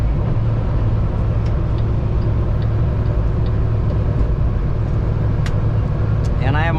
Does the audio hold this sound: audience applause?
no